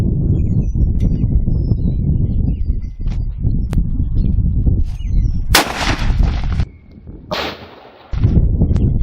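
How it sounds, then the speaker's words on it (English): Two sharp, loud cracks ring out as .30-06 armor-piercing rounds are fired from a 1903A3 rifle at a Level IV armor plate, each with a brief echoing tail, amid outdoor noise. "he is going to fire another round .30-06 AP out of the same gun, 1903A3"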